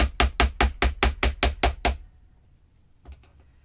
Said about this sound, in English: And now I'm going to take the hammer.